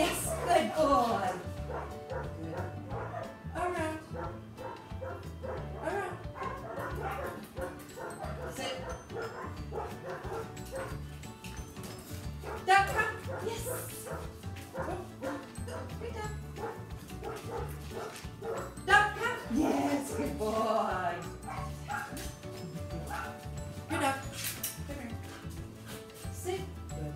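A dog yips and whimpers repeatedly during an obedience training session, its short cries scattered under frequent spoken commands and praise from a person nearby.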